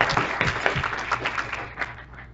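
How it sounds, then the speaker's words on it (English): Audience at a real estate investing talk claps for a participant, a short burst of scattered applause that thins out and fades toward the end. "Let's give him a big round of applause for taking action."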